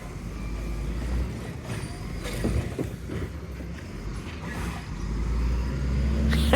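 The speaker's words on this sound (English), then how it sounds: "There goes that garbage truck." A Volvo WX42 garbage truck fitted with a Heil Rapid Rail body passes on a street, its diesel engine giving a steady loud rumble that swells toward the end as it moves nearby.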